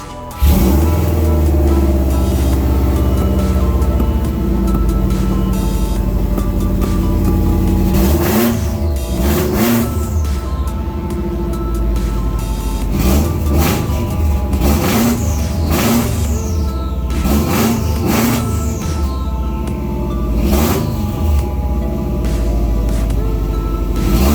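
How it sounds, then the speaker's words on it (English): A loud, raw Subaru WRX engine with no exhaust roars and revs repeatedly, with sharp throttle blips rising and falling over a steady, rumbling idle. "we're gonna fire it up and see what it sounds like"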